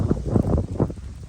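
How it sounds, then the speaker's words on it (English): Gusty wind buffets a handheld microphone in open country at Red Rock Park outside Gallup, New Mexico, a loud, continuous low rumbling roar with choppy surges. "It's really windy here."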